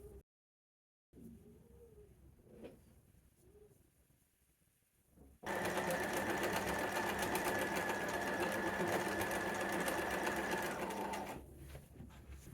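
A sewing machine stitches a sleeve, starting after a few soft handling sounds with a loud, fast, steady whirring hum and rapid mechanical clatter that runs for several seconds before stopping.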